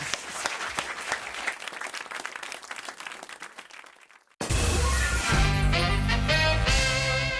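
Loud studio audience applause on a French radio broadcast, a dense crackle of many hands that fades out over about four seconds before cutting abruptly to a loud burst of music.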